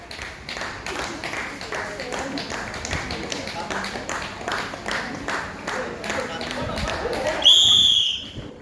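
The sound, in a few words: spectators clapping to cheer runners at Onam sports day race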